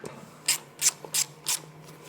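A ratchet clicks in four short, sharp bursts, close and crisp, as it tightens a bolt on the camshaft sprocket of a Royal Enfield 350 engine.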